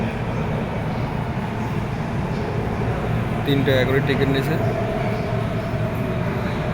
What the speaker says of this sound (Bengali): মেট্রো এসে গেছে আমরা মেট্রোতে এখন উঠবো